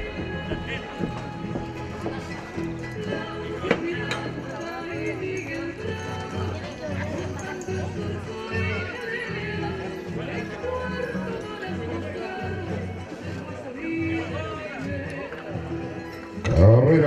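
A rodeo horse runs in an arena at a Chilean rodeo in San Miguel, Chanco, its hooves clip-clopping in a steady rhythm under continuous announcer talk and crowd noise.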